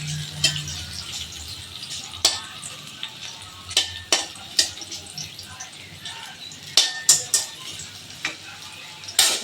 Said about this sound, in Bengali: আর এখানে মেয়ের জন্য আলু ভাজা